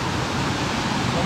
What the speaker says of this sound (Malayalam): ഇവിടെ കോൺക്രീറ്റ് ചെയ്തതുകൊണ്ട് ഈ വെള്ളം ഇങ്ങനെ ഒഴുകി പോകത്തുള്ളൂ.